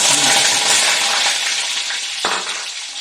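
Whole large dried red chillies dropped into hot oil with frying fenugreek seeds for drumstick rasam, a loud close sizzle that slowly settles, broken by a single sharp clink of a utensil.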